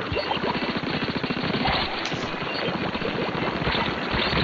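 Tenta Missiles fired in the video game Splatoon 2, a rapid volley of sharp launches rattling off in a steady machine-gun-like burst, loud and continuous with a brief whoosh near the middle.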